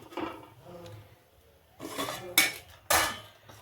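Metal dishes clank and scrape as a plate is set down on a stand in a steamer, with two sharp bright clinks near the end amid light handling noise.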